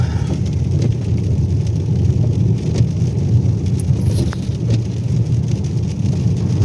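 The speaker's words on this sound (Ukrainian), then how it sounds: "Їдемо по асфальтованій дорозі." Car driving on an asphalt road through a village, a steady low rumble of tyres and engine with broadband road noise throughout, close and continuous, no speech.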